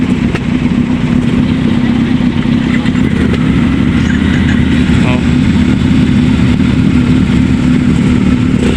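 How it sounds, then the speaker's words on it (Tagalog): Big bike motorcycles roll onto a ship, their engines rumbling and idling loudly and continuously at close range, with people talking over the noise. "papasok na mga big bike motors."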